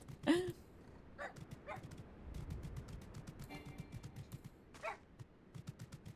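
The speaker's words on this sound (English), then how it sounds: "I love that dog." A dog in the Final Fantasy XIV game world gives a few short yips and whimpers, spaced out over soft background game noise and faint clicks.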